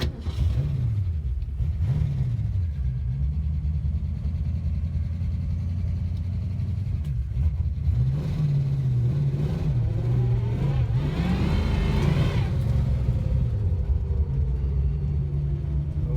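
An original 1964½ Mustang with a 289 V8, four-barrel carburetor and four-speed runs at a steady idle, then is revved in several rising and falling bursts before settling back to idle, loud and close.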